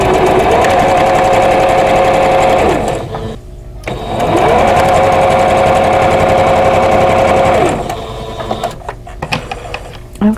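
A sewing machine runs steadily while stitching quilt squares together, loud and close in two long whirring bursts of a few seconds each, separated by a brief pause and followed by lighter clicks and handling.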